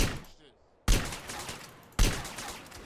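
Video game gunfire in GTA San Andreas Definitive Edition: two sharp, loud shots roughly a second apart, each trailing off into a fading echo, with a quieter gap before them.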